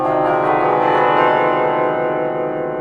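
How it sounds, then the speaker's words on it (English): An octatonic scale rings out on tuned bells, the tones sounding one after another with long, overlapping resonant partials that sustain loudly and fill the whole stretch. "if I play an octatonic scale on bells"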